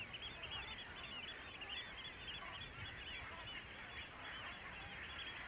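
A dense flock of wading birds calls constantly over tidal mudflats, a thick chorus of overlapping honking, chattering cries at moderate distance, steady and unbroken throughout.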